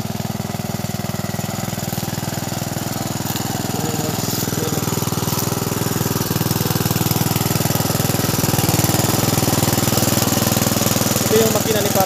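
Father's engine-driven pump running on a farm to collect water, a loud, steady, rapid chugging drone that holds its pace throughout, close by with faint background sounds.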